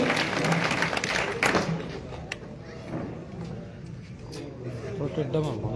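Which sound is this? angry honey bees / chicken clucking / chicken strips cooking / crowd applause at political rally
crowd applause at political rally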